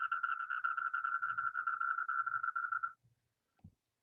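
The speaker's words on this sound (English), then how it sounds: "So this is a sound of common toad," A common Indian toad calls in a single sustained, rapidly pulsing trill lasting about three seconds, loud and close, followed by quiet with a faint thump.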